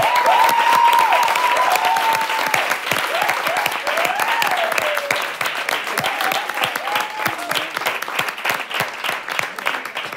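Studio audience applause during a Spanish talk show, loud dense clapping from a crowd that fades gradually across the stretch while a few voices call out over it.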